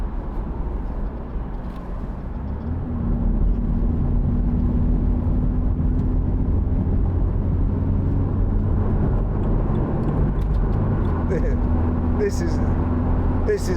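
A 2014 BMW Z4 sDrive28i M Sport with a 2.0-litre engine drives in Sport Plus mode, its engine drone and road roar building to a steady loud level, heard from inside the cabin.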